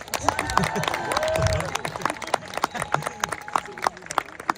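A crowd at a concert in Fort Dupont Park, Washington DC, claps and cheers, then the applause thins into scattered claps, with voices talking over it.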